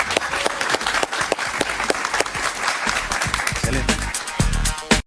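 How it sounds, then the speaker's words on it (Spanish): A studio audience breaks into loud, sustained applause on a Spanish-language interview talk show, dense clapping filling the room with no voices above it. "Un aplauso fuerte para ella, por favor."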